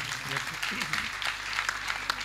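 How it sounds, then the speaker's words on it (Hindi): Audience applause at a Hindi poetry gathering (kavi sammelan), a steady patter of clapping over about two seconds with low voices or music running underneath. "एक बार आपकी तालियां आ जाएं"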